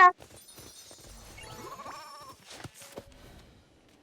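A sheep bleats in a video game, a wavering nasal cry rising and falling midway, set among faint game sounds and electronic tones at moderate volume.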